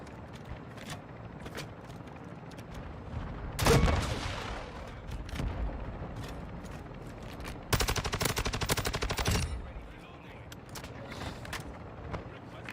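LMG machine gun fire in Warzone 2, with two loud sustained bursts of rapid shots, one short and one longer, over constant game ambience and background noise.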